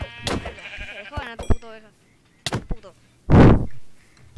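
Minecraft sheep bleat in short wavering cries, several separate calls spaced through the clip, mixed with a sharp click and a loud noisy burst near the end.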